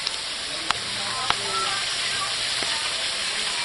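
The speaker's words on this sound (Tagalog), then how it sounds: "Ito yung niluluto ngayon, prito." Food frying in a modest Filipino kitchen during a gift-giving event, a steady hiss of oil with a few sharp clinks of utensils over it and no one talking.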